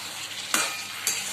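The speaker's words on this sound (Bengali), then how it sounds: "এবার কলাগুলো দিয়েও এবার পুরো কষাবো।" Potatoes and bananas are stir-fried in oil in a pan, a steady close sizzle broken by two sharp scraping stirs of a utensil against the pan.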